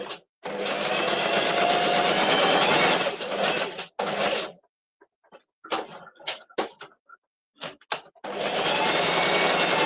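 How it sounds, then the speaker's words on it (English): A sewing machine runs in steady bursts of rapid stitching, stopping for a few seconds of small clicks and handling noises before starting again. "So I'm going to sew again."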